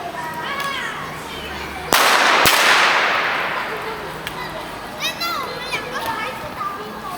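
Fireworks go off in a Shenzhen street: a sharp crack near two seconds, a second bang, then a long hissing crackle that fades, with scattered pops and whistles afterward and children's voices chattering throughout.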